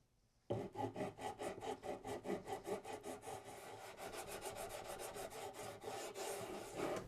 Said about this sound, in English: we'll just come back in with the radius block and sand those flat